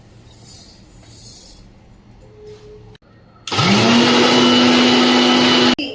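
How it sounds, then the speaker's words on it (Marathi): A mixer grinder whirs at full speed grinding roasted moong dal, starting abruptly after quieter kitchen sounds and running as a loud, steady high-pitched drone for about two seconds before cutting off. "भाजलेली मूग डाळ आहे तर ती आता आपण बारीक करून घेऊया"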